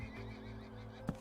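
A horse whinnies inside a Minecraft world in the Enigmatica 2 Expert modpack: a low steady hum, then one short, sharp neigh near the end.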